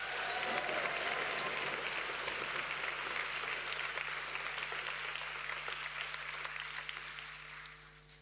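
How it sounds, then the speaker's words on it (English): Sustained audience applause fills a school gym event, a dense wash of many clapping hands that holds steady and then tapers off near the end. "So please join me in giving Mr. Armour another huge round of applause."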